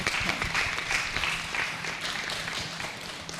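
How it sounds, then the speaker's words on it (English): An audience at a UNICEF World Children's Day launch applauds young people, a moderately loud, continuous patter of many hands with scattered crisp claps, gently fading. "can I ask you to give the round of applause to them?"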